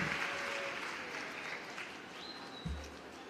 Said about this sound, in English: There's nothing wrong to clap. We can clap for Dooms.